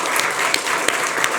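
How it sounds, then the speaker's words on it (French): A studio audience on a French talk show applauds, a brief, loud, dense burst of clapping with a few sharper individual claps standing out. "On peut l'applaudir encore une fois."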